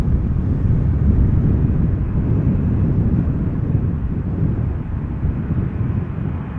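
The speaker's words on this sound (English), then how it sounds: "Air Canada Flight 808 arriving from Toronto." Air Canada Flight 808 from Toronto arrives at Amsterdam Schiphol Airport as a constant low, rumbling aircraft roar mixed with wind buffeting on the microphone, steady for the whole stretch.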